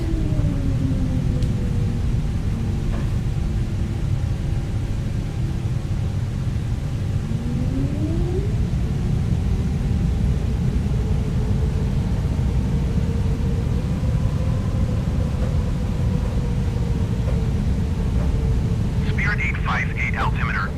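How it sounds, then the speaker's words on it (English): An Airbus A380 spooling up to full takeoff thrust on an evening departure from Dubai, heard from inside as a loud, steady low roar with rising and falling engine whines running beneath the whole stretch. "and then full thrust for takeoff."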